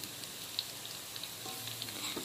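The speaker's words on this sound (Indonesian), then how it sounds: "Ini tempenya tak goreng dulu." Tempeh frying in hot oil, a steady crackling sizzle with scattered pops, moderately quiet and continuous with no talk.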